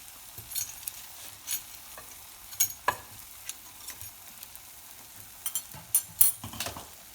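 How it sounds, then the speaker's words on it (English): Eggless rosette cookies deep fry in hot oil, giving a soft bubbling sizzle with intermittent louder crackles and scraping clinks from a utensil, close and quiet, with no voices. "these cook quickly, so just a few more seconds until they're golden brown"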